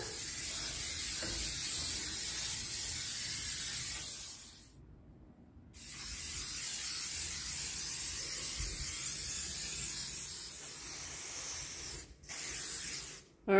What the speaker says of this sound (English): Alright, it's WD-40'd up.